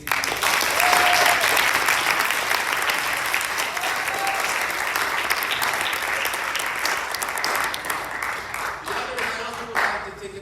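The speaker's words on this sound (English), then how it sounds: "please give a round of applause to your amazing teachers" Sustained applause from an awards-ceremony audience honoring the teachers, dense and steady clapping filling the room for the whole stretch, tapering only slightly near the end.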